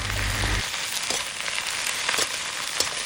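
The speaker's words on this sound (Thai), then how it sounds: "ขั้นแรกใส่น้ำมันลงไป แล้วก็ผัดผัก ให้มันสลบ ผัดไปเรื่อย" Vegetables stir-fried in oil for a northern Thai khua dish, a steady broadband sizzle with soft scraping stirs, after a brief low hum at the start; no talking.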